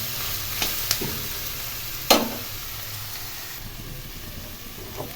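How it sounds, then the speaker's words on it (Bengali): Soybean chunks and cauliflower for a Bengali curry sizzle steadily in a pan while a spoon stirs them, with a few sharp clinks of utensil against metal over the constant frying hiss. "খুব ভালো করে এইগুলো নেড়ে নেড়ে ভেজে নেব।"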